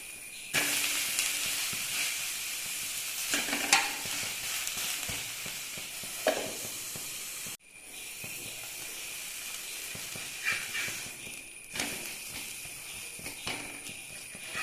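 Onion uttapam, a batter studded with onion, coriander, curry leaves and ginger, sizzles and fries steadily on a hot pan, a continuous close hiss with a brief break midway and small pops and scrapes throughout.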